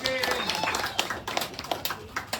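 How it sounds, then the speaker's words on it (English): A small audience at a stage hypnosis show at a campground claps briefly in scattered, uneven bursts, fairly faint, with a voice speaking over the clapping. "go ahead and give him a round of applause."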